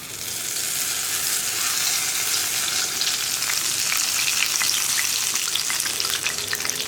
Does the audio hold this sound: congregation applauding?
no